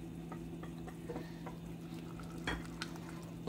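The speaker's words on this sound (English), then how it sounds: "you're going to boil it for 2 minutes once it starts boiling, but you have to keep mixing it the whole time" Moussaka sauce seasoned with nutmeg and salt is stirred steadily in a pot as it thickens and starts to boil, giving soft repeated scrapes over a constant low bubbling hum, close and fairly quiet.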